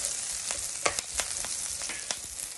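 Green chillies and curry leaves frying in hot oil for yellow dal, a loud continuous sizzle broken by sharp crackling pops at irregular intervals.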